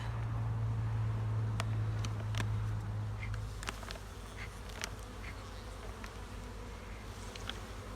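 Honeybees buzz steadily around an open hive during an early spring colony inspection, a dense close-up drone with individual bees zipping past now and then, alone without talk.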